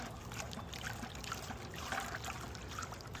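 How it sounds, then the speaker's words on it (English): Compost brew being stirred with a wooden brew stick, a steady wet sloshing and trickling churn of liquid that runs continuously and fairly quietly with no talk over it. "I just sort of mix everything up."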